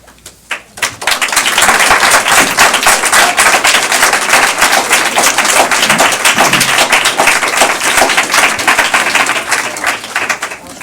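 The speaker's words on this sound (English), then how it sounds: "I am surprised that there's applause in the audience for this one" An audience at a school board meeting breaks into applause, with dense, loud clapping starting after a few scattered claps, sustaining for several seconds, then tapering off.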